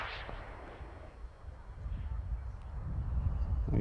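A model rocket on a C-class motor lifts off with a rising, roaring rumble that grows louder over a few seconds after an initial sharp pop, heard outdoors.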